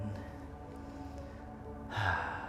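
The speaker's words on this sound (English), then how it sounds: "Breathing in." A single audible breath drawn in during a slow tai chi flexibility routine, a soft airy inhale swelling near the end after a quiet stretch.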